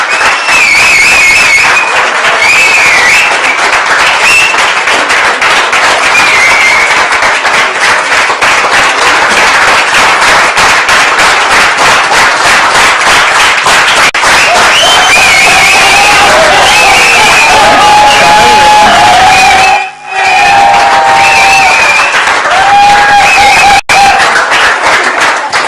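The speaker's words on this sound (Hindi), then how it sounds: "हम स्टैंड खड़े होकर उनके लिए तालियां बजाएंगे जो भी हमारी वुमेन टीम है।" A crowd at a T20 World Cup cricket broadcast gives a standing ovation, a dense, loud wall of clapping and cheering that runs continuously, with whistles and raised voices rising through it.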